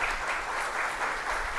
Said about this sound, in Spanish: fuerte aplausos para usted